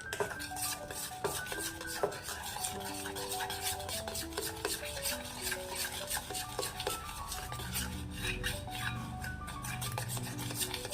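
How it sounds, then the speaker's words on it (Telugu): Milk cheese powder stirred hard to break up lumps gives a continuous close rubbing, scraping and clinking of a spoon against a vessel, with soft music playing underneath throughout. "బాగా కలపండి. ఉండలు లేకుండా ఉండాలి."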